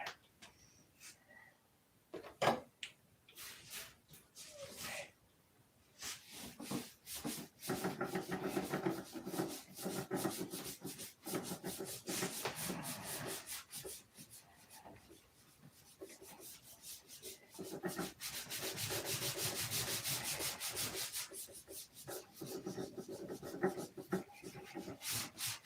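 A surface is sanded by hand with 1000 grit sandpaper, making steady rasping strokes that run in long bursts with short pauses and stay fairly quiet and close.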